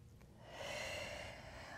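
Steady breathing during a Pilates reformer exercise, a close, soft airy exhale that swells and holds for under two seconds with no talk.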